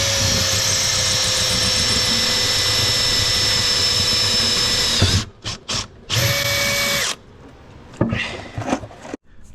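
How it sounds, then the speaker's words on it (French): A power drill bores holes into a steel I-beam with a loud, steady high-pitched whine for about five seconds, followed by several short stop-start bursts. "je perce mes trous dans l'IPN"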